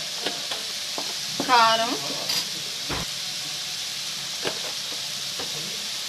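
Curry ingredients frying in oil in a pan, with a steady continuous sizzle and hiss throughout, a few light stirring clinks, and a brief voice speaking over the cooking.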